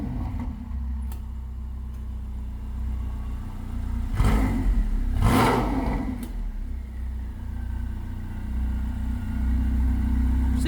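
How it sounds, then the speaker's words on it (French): A Ferrari 488 V8 gives two quick revs that swell over a steady idling rumble, heard close and loud in an enclosed space. "on va démarrer la Ferrari 488 pour vous faire écouter le beau V8"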